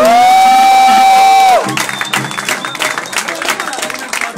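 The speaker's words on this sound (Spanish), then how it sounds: "Un aplauso para estos dos carnales." A crowd at a 2012 rap battle in Cuautla, Morelos bursts into loud cheering, whistling and applause right after a sustained tone cuts off, the dense noisy roar continuing close and strong to the end.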